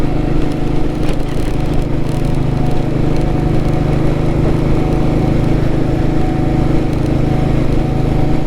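A Royal Enfield Vintage Bullet motorcycle cruises at about 78 km/h, its engine a loud, steady, close thrum with a constant low hum and wind rush, holding an even pace throughout.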